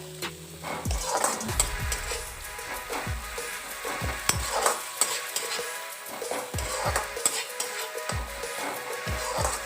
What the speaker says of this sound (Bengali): মশলাটা খুব ভালো করে কষিয়ে নেব যাতে মশলার কোনো কাঁচা গন্ধ না থাকে।